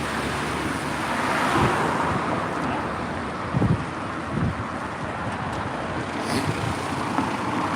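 Steady traffic rolls along a town street in Ballymena, Northern Ireland: a continuous rumble of passing cars with gusty wind noise on the microphone and a few louder low thumps from heavier vehicles going by.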